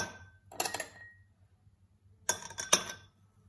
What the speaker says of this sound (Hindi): उसके बाद हम इसमें आइस क्यूब्स डालेंगे